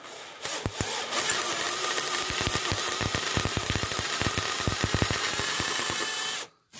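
A drill boring a hole in a Honda 79cc motorcycle kick-start pedal shaft, a steady close high whine with rapid rattling pulses for about six seconds before stopping abruptly.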